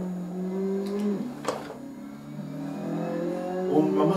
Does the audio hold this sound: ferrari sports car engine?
yes